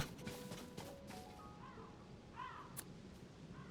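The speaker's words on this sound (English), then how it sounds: "Oh, those are crows" Crows cawing in the video game Zelda Tears of the Kingdom, a few harsh caws rising over a steady ambient game soundscape, moderately near.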